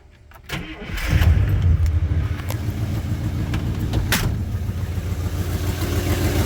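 A Vortec 4200 engine cranks briefly, catches with a loud surge and settles into a steady, close-up idle, with a couple of sharp mechanical clicks along the way.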